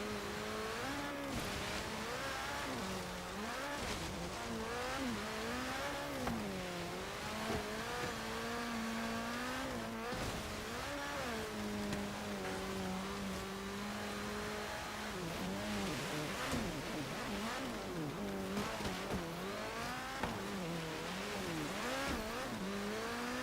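Racing cars, including a Lancia, roar through a snowy mountain course in Forza Horizon 3, with a loud, continuous engine drone whose pitch climbs and falls through gear changes and revs, close up and without talk.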